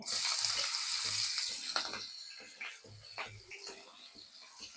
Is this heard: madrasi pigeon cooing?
no